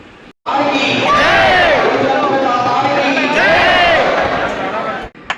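Pilgrims chanting slogans in a slow-moving queue at Khatu Shyam temple: a loud crowd of many voices rising and falling in unison, with swells of shouting over steady crowd noise throughout.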